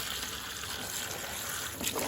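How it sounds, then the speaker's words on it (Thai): Tap water from a well supply runs steadily into a bucket used for growing red water lilies, a continuous close splashing rush with no talk. "เปิดน้ำ เปิดน้ำใส่ในถัง"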